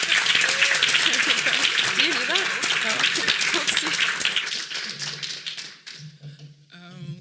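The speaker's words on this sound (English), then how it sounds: "Can we give her another round of applause?" Audience applause rings out at a showcase, a dense wash of clapping that fills the first several seconds and then thins out, with voices talking over and after it.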